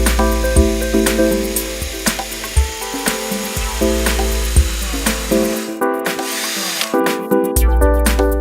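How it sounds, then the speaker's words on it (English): A 4mm bit drilling a hole in a column during a SlamStop door-stop installation, a steady close whine with tonal harmonics that cuts off partway, leaving quieter clicks and handling noise before resuming briefly. "Drill a hole using a 4mm drill."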